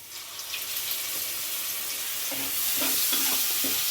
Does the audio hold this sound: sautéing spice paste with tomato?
yes